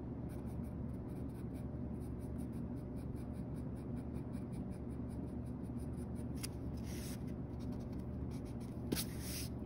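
A pencil sketching a portrait on paper, with a hand resting on a sheet of paper, gives a close, steady scratchy scribble of short strokes, soft and continuous with a few brighter scrapes near the end.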